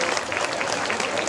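An audience welcomes guests from Ladakh with clapping, a brief dense burst of applause filling a hall.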